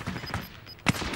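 Brief video game gunfire from Call of Duty Warzone, a short burst of shots ending in one louder, close crack, with game sounds running underneath.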